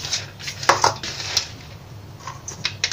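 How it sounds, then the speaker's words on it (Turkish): Someone picks up and handles a frying pan, giving a few close metallic clanks and scrapes of cookware and utensils against a quiet background. "Böyle bir tava alıyoruz."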